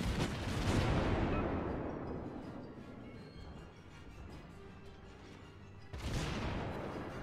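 Big naval gun salvos from the Soviet cruiser Murmansk in World of Warships: a loud broadband blast that rumbles away, then a second salvo about six seconds later.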